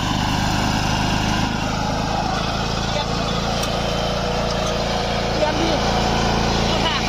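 Used Japanese Sato 13 hp gasoline ride-on lawn mower running, a steady, loud, close engine drone that holds without break, while someone talks over it.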